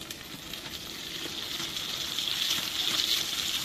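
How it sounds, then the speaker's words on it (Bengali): Rui fish pieces fry crisply in hot oil for a Bengali kalia, with a steady close sizzle that swells slightly louder toward the end, with no voices. "আর মিনিট খানেক ভেজে তুলে নেবো। এবার তুলে নেবো, বেশ কড়া করেই ভাজা হয়েছে।"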